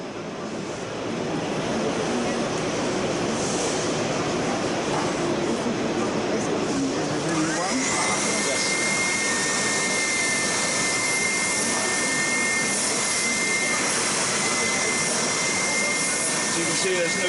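Triton TSPST450 oscillating spindle and belt sander running, a loud continuous rushing roar with dust extraction, a steady tone emerging partway through, with someone talking over it.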